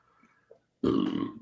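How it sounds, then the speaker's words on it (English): A person lets out one loud, drawn-out burp that lasts about half a second, close to the microphone after near silence. "fans said stop burping on live"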